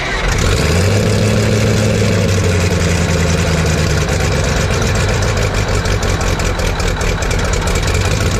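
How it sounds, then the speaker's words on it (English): An old wheel loader that sat for about twenty years cold starts, its heavy diesel engine roaring loud and steady, with a low rumble easing after a few seconds into a continuous rough idle close by. "I guess it's time we'll go ahead and try to cold start this thing."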